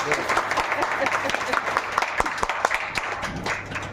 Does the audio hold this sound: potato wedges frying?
no